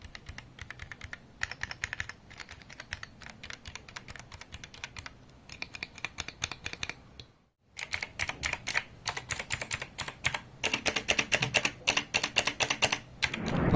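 Fast typing on a Dareu A84 Pro mechanical keyboard with linear switches and a metal case, with dense clacking keystrokes and a short pause midway. Later the bursts come louder and sharper, close up.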